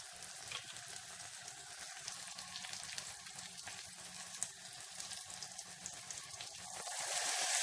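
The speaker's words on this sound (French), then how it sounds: "Là, je rajoute un peu d'eau." Water is poured over ten chili peppers being prepared for a pepper purée, giving a continuous close hiss and splash with small bubbling pops that swells louder at the end.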